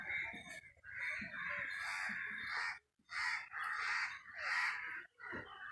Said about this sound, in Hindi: यहाँ पे कौवे बैठे हैं विशेष।